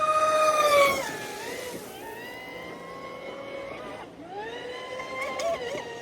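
A Delta Force Q-Mono twin brushless RC boat running laps at speed, a high whining motor pitch that swoops down and climbs back as it turns, loud and near, then fading and returning.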